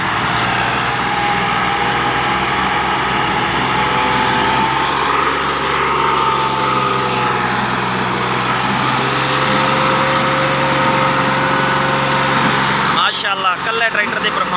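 Two tractor engines labour under load pulling a loaded 16-foot trailer in a sustained, heavy drone close by, with voices talking over the noise throughout.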